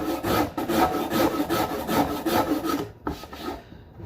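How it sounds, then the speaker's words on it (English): Rows of hacksaw blades riveted together serve as a coarse file on a wooden Telecaster guitar neck, giving steady rhythmic back-and-forth rasping strokes, close and fairly loud, that stop briefly near the end. "rivet a whole bunch of hacksaw blades together. The rough on one side and finer on the other"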